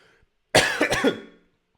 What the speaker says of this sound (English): I'm coughing like so much right now